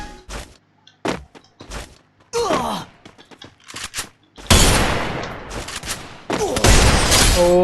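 Automatic weapon bursts from the Free Fire video game in a solo-versus-solo match, rapid dense volleys crowding the second half after scattered single shots and clatters, loud and close.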